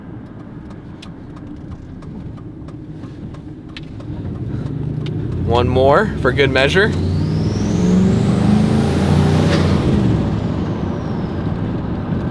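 Turbocharged Chevrolet Silverado engine breathing through a 2.5 inch intake, a steady idle swelling into a revving, whooshing rise with turbo spool, close and loud, with someone speaking briefly over it.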